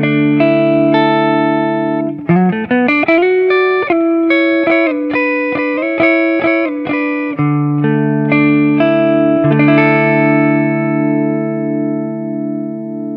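Epiphone Les Paul electric guitar on clean tones with light reverb, arpeggiated chords and short licks ringing out with long sustain, loud and close, plucked notes overlapping, no talking.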